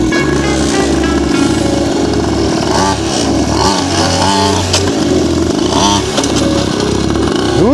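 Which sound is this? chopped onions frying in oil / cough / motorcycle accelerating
motorcycle accelerating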